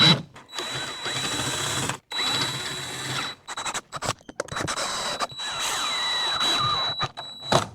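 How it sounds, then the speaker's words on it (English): A power drill with a larger bit whirs in several short bursts while widening screw holes in wood, each lasting one or two seconds with brief pauses between, close and fairly loud. "I'm gonna have to use a bigger drill bit and just drill into those holes just a little bit"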